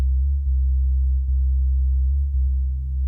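A simple subby synth bass built in Ableton with unison detuning holds a deep, smooth sustained tone, loud and steady with slight swells and a few soft note changes.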